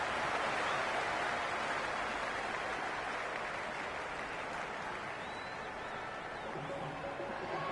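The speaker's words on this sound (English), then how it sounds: "The crowd is electric right now." A stadium crowd at a cricket match in the Cricket 26 video game roars and applauds in a broad, steady wash of cheering that slowly eases, fairly faint and without clear talk.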